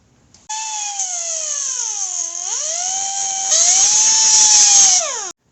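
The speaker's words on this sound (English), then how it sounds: "Now be careful when you grind these off." A grinder cuts through a liftgate strut on a 2007 Toyota Highlander Hybrid, a loud, close, high-pitched whine that sweeps down and back up in pitch as the disc loads and frees, then stops abruptly.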